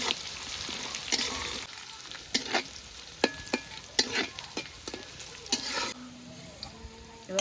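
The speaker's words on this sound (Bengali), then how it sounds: "রসুন দিয়ে দিচ্ছি।" Crushed garlic frying in oil in a pot, a steady sizzle broken by frequent sharp scrapes and clinks of a spoon stirring against the metal.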